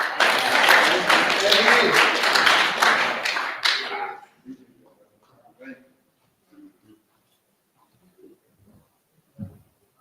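A meeting audience gives loud, dense applause for a speaker at an addiction recovery ministry gathering, with sustained clapping that cuts off abruptly after a few seconds, leaving scattered faint taps and quiet room noise.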